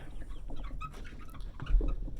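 Chickens cluck and murmur in a basic homestead chicken area during morning chores, several short soft calls scattered over a low outdoor background.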